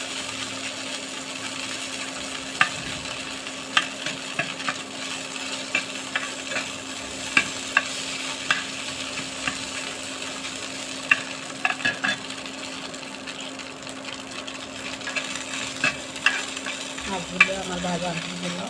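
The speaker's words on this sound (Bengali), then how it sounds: "মাছগুলো আমার ভাজা হলো" Hilsa fish pieces fry in a pan with a steady, soft sizzle, broken by sporadic sharp scrapes and taps as a utensil stirs them, heard up close with no talking.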